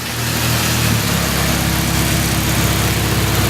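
A turbocharged Honda engine runs on a dyno, a loud, close mechanical roar that rises in pitch as it revs hard through the VTEC crossover, sustained and strained across the whole pull.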